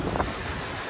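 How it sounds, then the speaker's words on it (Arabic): Sea waves wash at Tartus, Syria, a soft continuous surf hiss almost buried under heavy wind buffeting the microphone. "وهي بحر طرطوس يا جماعة"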